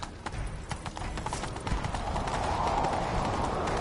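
Rapid clip-clop of horse hooves galloping in a video game, loud and close, building into a steady rhythmic run with a rushing wash behind it.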